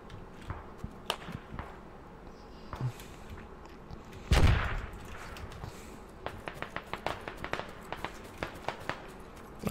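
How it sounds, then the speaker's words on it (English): Scattered sharp gunshot cracks with one heavy blast midway, then a rapid run of distant AK rifle shots in the game Squad. "That's enemy AK right there."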